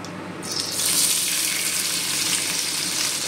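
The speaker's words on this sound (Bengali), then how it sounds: "তেলটা এখানে গরম হয়ে গেছে, এবার আমি মাছগুলোকে তেলের মধ্যে দিয়ে দেব।" Small fish sizzling as they go into hot oil for a Bengali mourola fish curry, a loud steady hiss that swells after the first moments and holds close and continuous with no voices.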